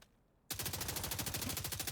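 Rapid automatic weapon fire in the shooter game The Division 2 starts abruptly after a brief quiet moment, then runs as a loud, continuous burst of evenly spaced shots.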